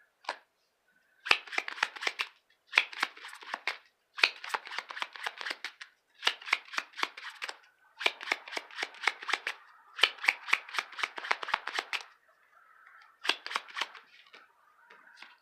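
Tarot cards shuffled by hand in quick rattling bursts, each flurry of crisp riffling slaps separated by short pauses, close and clear with no talking.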